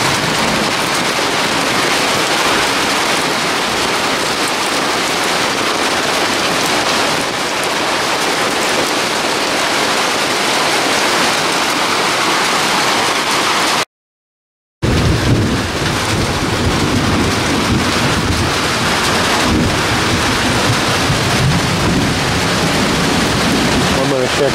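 Heavy rain pours steadily onto an umbrella and ground as runoff drains off a roof, a dense continuous wash with wind noise throughout and a brief gap midway, with no distinct thunder clap standing out.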